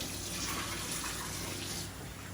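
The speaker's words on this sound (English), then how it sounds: "So I'm going to throw that water out." Rinse water from washing fresh strawberries being poured out into a sink, a steady continuous rush of splashing water close by with no talk over it.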